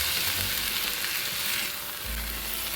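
Pork rib risotto being stirred in a pan as broth is added, giving a steady, soft sizzle and hiss with low scraping of a spoon, fairly quiet and continuous, no voices.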